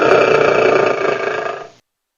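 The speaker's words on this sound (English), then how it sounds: "a lion makes a low-pitched roar" A lion lets out a single loud, low, rough roar that holds steady for under two seconds and then cuts off abruptly into silence.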